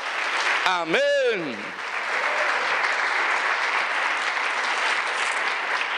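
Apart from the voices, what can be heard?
church congregation applauding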